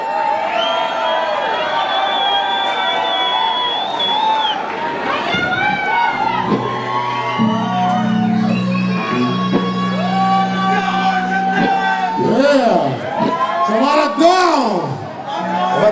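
Concert audience cheering and shouting at a rock show, a loud, continuous crowd roar with whoops and yells, and sustained tones and voices running through it.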